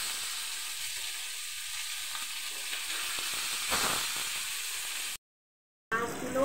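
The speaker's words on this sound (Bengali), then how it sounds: "সেই জন্য আমি মাছগুলো আবারও উল্টিয়ে দিচ্ছি" Pieces of catla fish fry in hot oil with a steady, dense sizzle and hiss, briefly swelling, then cutting to silence before the spitting resumes.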